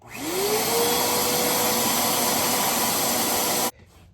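Vacuum cleaner sucking debris out of a VW engine, a loud steady whooshing roar that spins up at the start, holds constant, then cuts off abruptly near the end.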